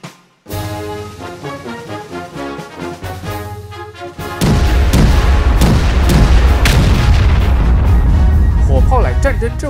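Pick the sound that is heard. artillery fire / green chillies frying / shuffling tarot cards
artillery fire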